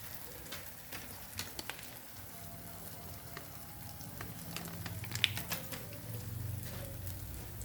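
Onion with a pinch of turmeric fries in oil in an iron tawa, a steady faint sizzle and crackle with scattered small pops, fairly distant and unbroken throughout.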